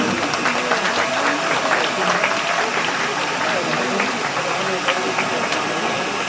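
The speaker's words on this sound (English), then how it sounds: "Round of applause again." Steady clapping from a crowd fills a hall, a dense continuous patter at moderate loudness with a low mechanical hum underneath.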